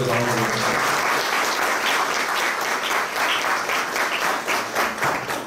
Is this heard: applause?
yes